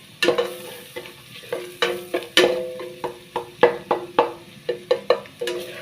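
Garlic sautéing in a pan for a Filipino jute leaf (saloyot) and beef dish, heard as a run of sharp, close scraping and stirring strokes against the pan at an uneven rhythm over a low sizzle, with no talking.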